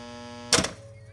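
A single sharp mechanical clunk as a Cutler-Hammer CN35 electrical contactor pulls in, its magnet drawing the plunger down, over a steady electrical hum that continues afterward.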